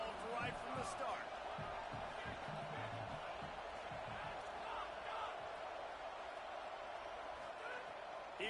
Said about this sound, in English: this home crowd getting involved right from the start